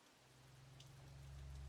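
Rain in the video game Long Gone Days, a soft continuous patter over a low steady hum that slowly swells louder, faint and distant with a few scattered drops standing out.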